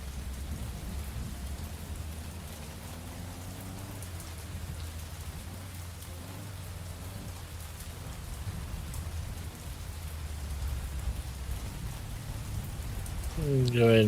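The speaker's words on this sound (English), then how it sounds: "The rain seems really loud to me." Steady rain hisses and patters continuously in the game Mon Bazou at a moderate level, with a low rumble underneath and a brief rising tone at the end.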